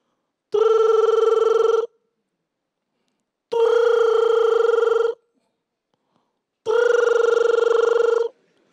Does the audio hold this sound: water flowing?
no